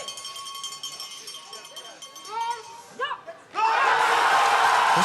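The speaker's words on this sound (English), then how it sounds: "Listen to the crowd." Spectators at a women's World Cup bobsleigh heat in Winterberg cheer loudly as the race passes, a roaring crowd swell that bursts in midway, following announcer commentary and scattered voices.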